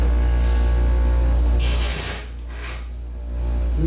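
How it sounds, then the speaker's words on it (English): A sawmill band saw blade sharpener grinding the teeth of the blade, which sits high in the clamp and wobbles; close, steady mechanical rasping with a brighter burst of grinding partway through, no voices. "It's making all that noise because this is so high out of the clamp that it likes to wobble a little bit"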